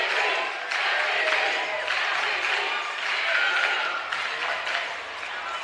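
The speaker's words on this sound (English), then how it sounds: "And listen to the crowd. They love her for her effort tonight." A crowd at a girls' high school basketball quarterfinal cheers and applauds for a player in a continuous loud roar of clapping and shouting, with a commentator's voice carrying over it.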